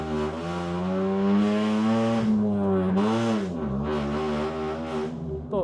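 Toyota Agya race car accelerating hard through the gears on the Mandalika circuit, its engine note climbing steadily in pitch, dipping at a gear change near three seconds, then rising again, loud and close throughout.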